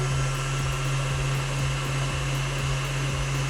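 Electric hand mixer whipping cream for a strawberry shortcake pie, a steady close motor whir with a constant hum held without pause, no talking.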